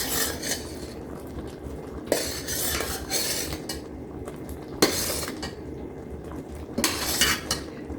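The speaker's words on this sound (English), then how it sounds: "I'm going to get a spatula here in a minute and scrape it" A spatula scrapes around the sides of a pan of thickening blueberry jam made with pectin, giving repeated metallic scrapes and sharp clinks over a soft bubbling background, nearby and fairly steady.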